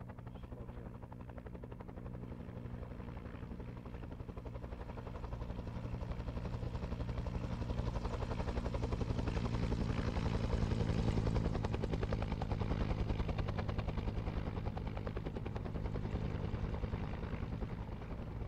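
Three military helicopters approaching a Marine platoon, a continuous rotor thump and engine roar that swells steadily louder as they draw near, then holds strong, with no talk over it.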